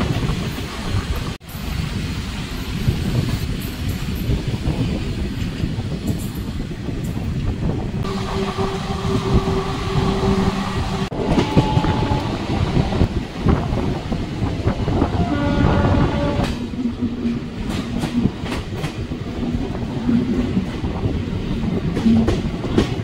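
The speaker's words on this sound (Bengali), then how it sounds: "প্রয়াগরাজ চিউকি জংশন ছেড়ে খানিকটা এগিয়ে আবার ট্রেনটা একটু দাঁড়িয়ে পড়লো।" A train runs near Prayagraj Cheoki junction with a steady close rumble and rhythmic clickety-clack of wheels on rails, broken by short tonal horn or whistle blasts partway through and a clanking, settling sound later.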